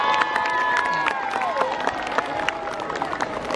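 A school assembly crowd claps and cheers loudly for three pairs of student council candidates, a dense burst of applause under a loud amplified tone from the sound system.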